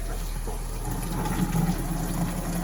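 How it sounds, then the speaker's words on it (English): Hot water pours steadily into a commercial mop bucket, a loud continuous gushing fill that runs unbroken throughout. "We're going to fill that with hot water."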